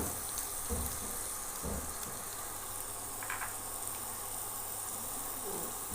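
Onion frying in a pan as tomato and capsicum are added, a soft steady sizzle and hiss throughout, with a few faint clatters and knocks from building work elsewhere in the home.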